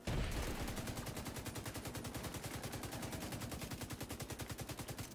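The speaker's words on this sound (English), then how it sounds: "Who the hell is shooting at me?" Rapid automatic gunfire in The Division 2, a loud, sustained stream of evenly spaced shots close by for several seconds with no talking.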